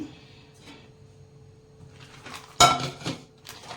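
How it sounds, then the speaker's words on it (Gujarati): A thick-bottomed nonstick pan is taken out and handled in a home kitchen, with soft rummaging followed by a sharp metallic clank and a few rattling knocks of cookware. "આવી જાડી તળિયાવાળી નોનસ્ટિકની તવી લો."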